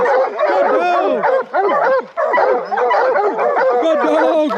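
Bear hounds bark and yip in a dense, overlapping chorus, loud and close, with brief pauses in the racket and a person's voice faintly mixed in.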